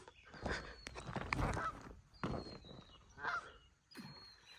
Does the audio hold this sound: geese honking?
yes